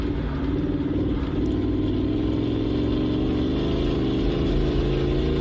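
Race car at the St George 399 crossing the finish line, a steady loud engine drone holding for several seconds without a clear pass-by peak.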